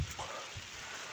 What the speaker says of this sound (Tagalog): Wala guys, umuulan na.